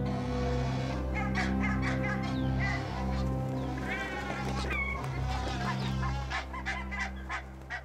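Barnacle geese calling at a cliff nesting site in Greenland, a dense chorus of loud, repeated honks and yelps from many birds, overlapping continuously over a low steady rumble.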